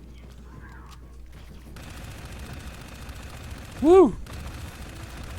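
Gunfire from a free shooter video game, a steady dense bed of shots under game noise, with one louder swelling whoop standing out near the end while a man exclaims briefly.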